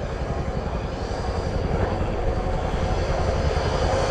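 Royal Air Force Boeing-Vertol CH-47 Chinook twin-rotor helicopter at the ILA Berlin 2018 air show, a loud, steady, continuous rotor and engine roar with dense low-end throbbing, close by and unbroken throughout.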